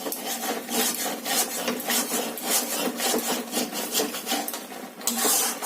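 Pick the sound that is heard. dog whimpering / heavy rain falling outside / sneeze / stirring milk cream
stirring milk cream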